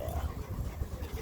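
A Cane Corso pants close by at a dog park, the quick rhythmic breaths low, soft and steady, with no talk over them.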